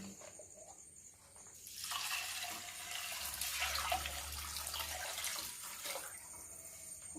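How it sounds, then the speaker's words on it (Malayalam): Water pours steadily into a metal pressure cooker for several seconds, a rushing splash that swells in the middle and then tapers off. "വെള്ളം ഒഴിക്കാം."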